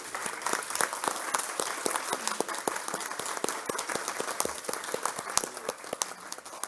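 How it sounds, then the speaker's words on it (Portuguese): A round of applause at a formal ceremony in a city council chamber: dense, steady clapping from a crowd that holds at an even level throughout, with sharp individual claps standing out. "Eu queria pedir uma salva de palmas para o doutor Odair."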